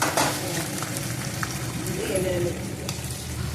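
A tempering for poha sizzles in a pan with green chillies, garlic and peanuts, a steady frying hiss with light stirring and a few clinks under someone talking nearby.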